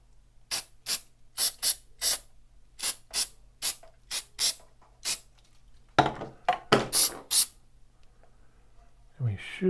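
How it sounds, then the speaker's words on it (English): Activator sprayed from a can in a rapid series of short, sharp hissing bursts, about a dozen close puffs in an uneven rhythm, with a person talking briefly near the end. "we can spray our activator"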